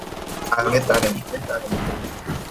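Bursts of gunfire ring out in the tactical shooter Ghost Recon Wildlands during a night raid on a coca farm, with irregular shots layered under game noise and voices talking over them.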